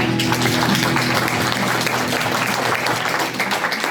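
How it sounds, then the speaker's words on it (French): Studio audience applause greets a singer's entrance on a French television variety show, a dense, steady wash of clapping that holds at full strength for about four seconds with a faint crowd murmur beneath. "On l'applaudit!"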